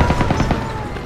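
Light-arms gunfire in the World War II shooter Call of Duty WW2, a loud, rapid stream of overlapping shots in a steady rattling rhythm, close and continuous throughout.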